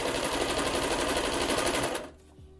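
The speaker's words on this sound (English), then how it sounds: "all I'm doing here is I'm sewing along the bottom edge of the mask and then the top edge" A sewing machine runs fast along the top and bottom edges of a fabric mask, a loud, close, rapid steady clatter for two seconds, then stops abruptly.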